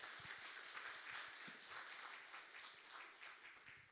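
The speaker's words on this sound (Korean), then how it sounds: "귀한 말씀 전해주신 이현주 선교사님께 큰 박수 부탁드립니다." Church congregation applauding at a Wednesday worship service after a missionary's sermon, a steady, full crowd clapping that sustains evenly for several seconds with no voices over it.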